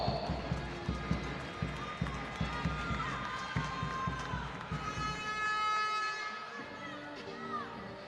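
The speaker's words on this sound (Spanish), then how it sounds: "Os quintetos en pista, ese fuerte aplauso." Crowd applauding the starting lineups of a Galicia–Madrid women's futsal match in an indoor arena, steady clapping under a commentator's voice, with horns and a rise of cheering toward the end.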